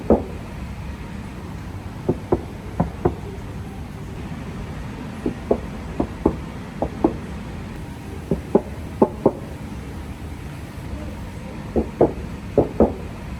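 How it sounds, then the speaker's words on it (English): Knuckles knocking on the aluminum tailgate of a Tesla Model Y Juniper: short, hollow raps in scattered pairs and triples across several seconds, clear against a quiet background. "just listen to the sound when I knock on it"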